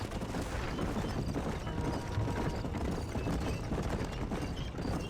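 Horse hooves in Red Dead Redemption, a dense steady clip-clop of a trotting horse under a continuous rumbling game soundscape, moderately loud and unbroken throughout.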